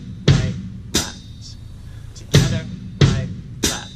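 Drum kit foot pattern for a basic rock groove, played slowly: five sharp hits in an uneven rhythm, with booming low kicks and splashy cymbal decay. The hits are close and loud, with no talking between them.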